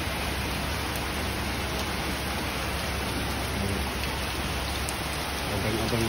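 Steady rain falls outdoors, a dense, even hiss of drops on surfaces that continues without break, with no voices over it.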